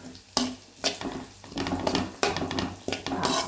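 Egg and rice are stirred together in a pan with a spatula, a series of scraping, clattering strokes over a faint sizzle, close and brisk.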